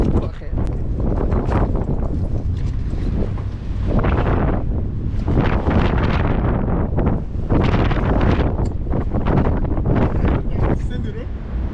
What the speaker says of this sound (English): It's too windy downside.